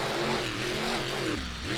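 A monster truck at a freestyle event roars loudly onto the track, its engine revving high and then dipping and climbing again in a continuous, close, harsh snarl.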